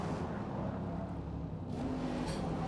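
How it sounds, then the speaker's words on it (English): A Mustang's engine in the Shift 2 racing video game drones steadily throughout, a constant low motor hum with slight revving, moderately loud and with no talking. "maybe that's how the shitty Mustang engines sound"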